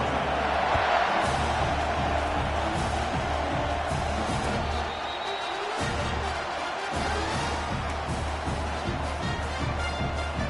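A college football stadium crowd roars at the Kansas State kickoff, a dense, distant wash of cheering and whoops that stays steady, with a couple of brief dips and occasional thumps in the mix.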